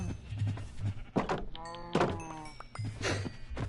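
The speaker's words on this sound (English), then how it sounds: "we can definitely sacrifice 20 cows for our leather needs" Cows in the Minecraft video game being slaughtered, with thuddy hit sounds and short tonal in-game animal cries repeating through a low background game hum, close and fairly loud.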